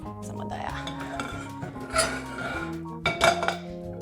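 A metal frying pan is handled in a home kitchen while roast pork with cherry sauce is prepared, giving a few sharp clinks and clanks of cookware, with the loudest knocks near the middle and end.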